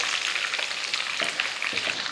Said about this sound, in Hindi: आराम से हमारी जो स्टिक्स है ना वो फ्राई हो जाएंगी।